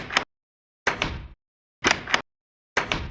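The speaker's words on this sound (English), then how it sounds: "If you remember this door sound, you are a veteran Minecraft player." The old Minecraft wooden door sound plays four times at steady intervals, each a loud, crisp creak-and-thunk burst separated by silence.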